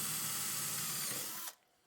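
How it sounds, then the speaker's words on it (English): Power drill boring mounting holes in a metal end plate for a bench grinder rebuild, a loud steady whirring grind that runs continuously before abruptly cutting off near the end. "Next, I'll centre punch and drill the mounting holes."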